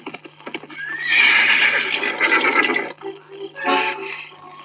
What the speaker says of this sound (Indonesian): dari kejauhan ia mendengar suara derap kuda yang mendatanginya